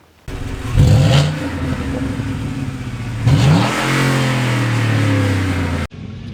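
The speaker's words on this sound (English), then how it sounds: "We're going to drag race them, Craig." Ford Raptor pickup trucks of different generations launch in a drag race on a closed private road, loud engines roaring up through the revs in two rising surges, then a sustained high drone before cutting off abruptly.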